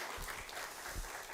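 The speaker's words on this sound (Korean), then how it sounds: "박수 한번." A church congregation at a Wednesday service breaks into brief, dense applause, a steady wash of many hands clapping at once.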